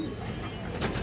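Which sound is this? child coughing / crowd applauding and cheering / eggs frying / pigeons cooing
pigeons cooing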